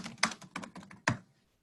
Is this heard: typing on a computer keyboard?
yes